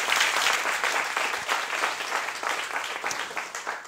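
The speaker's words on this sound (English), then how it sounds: "Round of applause for Kina, please." Sustained audience applause at a university research-talk competition, dense steady clapping from a crowd filling the whole few seconds at even loudness, with no talking over it.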